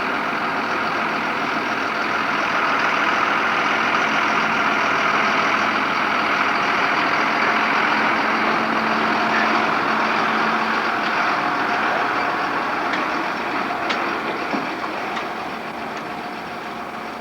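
A fire truck's engine runs steadily up close during a ride with students, a loud continuous low rumble and drone that eases slightly toward the end, with no talking.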